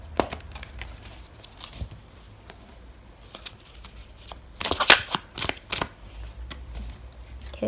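Tarot deck shuffled and handled close by, with scattered soft flicks that build into a louder burst of card riffles near the end, no talking.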